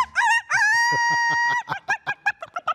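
Rooster crowing twice in a loud, close cock-a-doodle-doo, the second call long and drawn out, followed by a quick series of clucking bursts.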